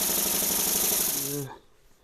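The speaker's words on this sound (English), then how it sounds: "Still sanding with 120 here." Steady abrasive rasping of 120-grit sandpaper against a spinning mesquite bowl on a lathe, loud and continuous, then it cuts out, leaving a quiet room.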